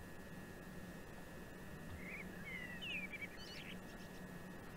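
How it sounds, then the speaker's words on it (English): Birds chirp at a quiet rural station in the Train Simulator Classic game, Chatham Mainline, as a few faint high tweets over a steady low hiss of background ambience. "Hear the birds chirping."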